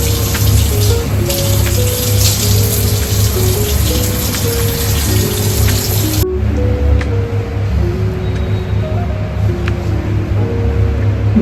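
Water runs steadily from a tap while someone washes their face after cleansing, a loud close splashing rush that continues unbroken, with a faint tonal hum in the background and no talk.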